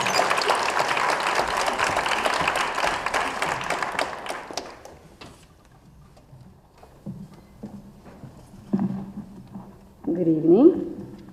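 Audience applause welcoming a speaker at an evening event, a dense burst of clapping for about five seconds that fades out, followed by a pause and then a voice talking.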